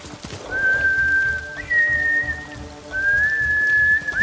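A horse galloping through rain in the game Ghost of Tsushima, with rhythmic low hoofbeats under steady rainfall and a thin sustained whistling tone above.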